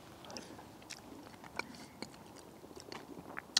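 Someone chews a low-carb rhubarb crisp topped with pecans and oat bran, giving soft, quiet crunches and small bites spread irregularly over a few seconds, close and faint with no talk.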